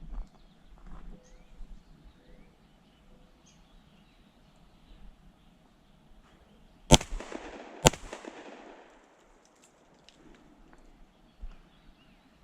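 Two sharp, loud pistol shots from a Fusion Firearms XP Pro, spaced about a second apart and echoing briefly outdoors, with a quiet, low rumbling background before and after.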